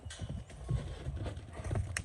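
An aggressive horse being run makes irregular hoofbeats thud across the ground, muffled and fairly close, with scuffing and rustling noise in between.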